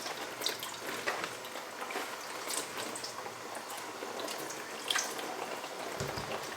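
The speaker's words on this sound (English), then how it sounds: "I'm just going to rinse the leaves with water" Water runs and splashes steadily as leaves for moin moin are rinsed in a kitchen sink, a soft continuous trickle with occasional drips, fairly quiet and with no talking.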